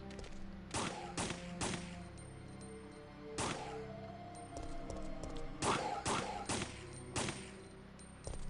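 Several sharp gunshots in Resident Evil 3: Nemesis on PS5, fired singly and in quick clusters at a moderate level over a low ambient game background.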